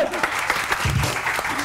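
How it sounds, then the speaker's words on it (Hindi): A studio audience on a Pakistani morning TV show claps in a dense, continuous burst, with a voice audible over the applause. "तालियां तालियां तालियां"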